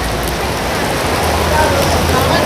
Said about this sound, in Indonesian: Nah kita mau menerobos hujan ini ya.